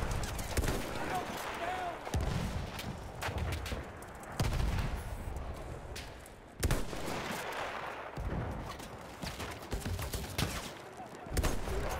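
Player's gun firing in Battlefield 1, a medic-class weapon on Cape Helles: repeated loud sharp shots in irregular bursts, with heavy thuds and battle noise and a voice talking in between.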